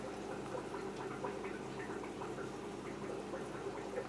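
Water trickles and drips steadily through a line into a container of blue velvet shrimp for drip acclimation, a faint, continuous, bubbling stream with no voices.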